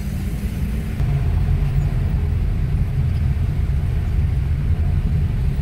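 Road traffic crossing the old Mactan bridge at night, a loud continuous low rumble of cars and heavier vehicles passing close by, with a steady engine drone and no talk.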